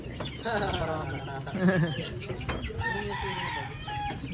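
A native rooster crows and clucks close by on a farm, with people talking throughout.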